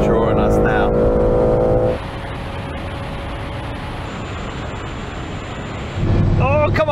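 A Nissan GT-R R34, BMW M3 and Ford Mustang in a drag race, heard from inside one car as a loud, steady engine and wind roar with a gear-change dip, while someone talks excitedly over it.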